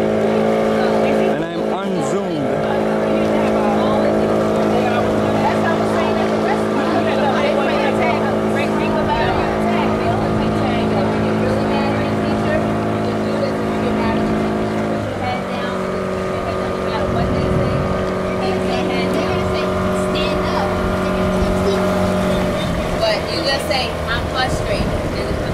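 A motorboat carries passengers toward Changuu Island off Tanzania, its engine droning loudly and steadily throughout, with the pitch shifting partway through, water rushing underneath and a voice faintly under the noise.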